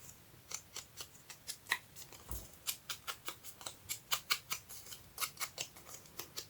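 A printed photo is torn by hand for a craft passport in a collector's box project, giving a long series of quick, faint, crisp ripping and snipping ticks in an uneven rhythm, close by and heard alone.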